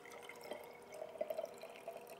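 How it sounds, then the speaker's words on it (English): Water poured into a glass jar to about a third full for an oil and water experiment, a faint, short trickle with soft gurgles and small bubbling notes, alone and quiet. "now take the water and fill it up to about one third of the way up"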